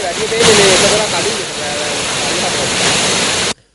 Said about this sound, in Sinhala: දැන් මේ බන්ට් එක පුපුරලා හොඳ වතුර පාරක් යනවා දැන් දවස් දෙකක ඉඳන්